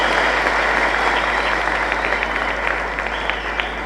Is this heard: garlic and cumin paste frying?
no